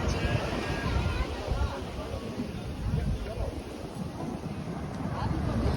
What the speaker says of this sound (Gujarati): આ બાજુ દરિયા કિનારો બહુ મસ્ત છે